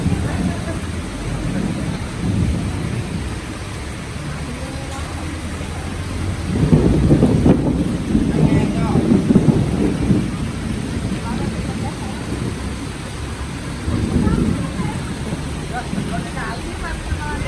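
Steady rain with rumbling thunder pours over an outdoor egg parade, a broad wash of noise with low swells around the middle and near the end, and voices in the crowd talk beneath it.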